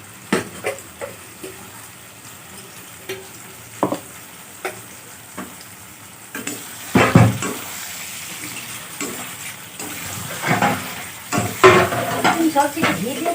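Vegetables frying in a pan as a spice paste of cashews, raisins, melon seeds and ginger is stirred in, with a soft sizzle under repeated scraping and clinking of a spoon against the pan, growing busier toward the end.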